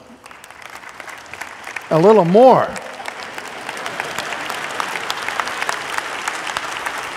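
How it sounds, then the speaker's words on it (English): Church congregation breaks into sustained applause that fills most of the clip, a steady wash of clapping with a brief burst of voices near the start. "this applause is a nice kind of thing"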